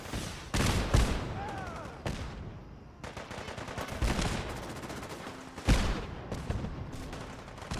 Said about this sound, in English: Automatic gunfire reminds me of living behind National Guard armor.